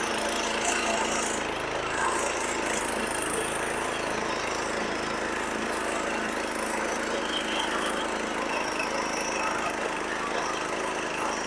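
A self-start diesel power weeder engine runs steadily close by, a loud continuous drone with rattling texture and no change in pace.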